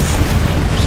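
The Incendio fire spell cast in Hogwarts Legacy, a brief loud whooshing rumble of flame that fills the whole short moment.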